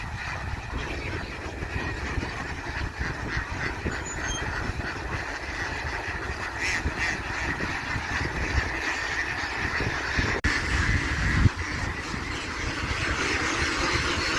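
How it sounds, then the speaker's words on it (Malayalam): Ducks flap and quack as they jump down from a truck in Andhra Pradesh, a steady mixed flock noise under a continuous low rumble, with no talk heard. "താറാവുകൾ പാറുന്നത് ഇങ്ങനെയൊക്കെ കണ്ടിക്കണം ആരെങ്കിലും?"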